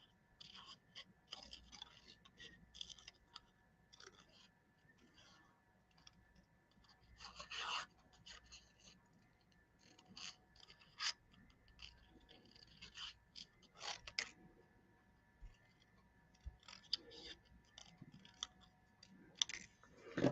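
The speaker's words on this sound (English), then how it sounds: "what I'm trying to do is to not turn the cardstock and not my scissors so much when I cut this" Quiet, close crisp snips of scissors cutting cardstock come in scattered bursts, with soft paper rustles and clicks between them and no talking.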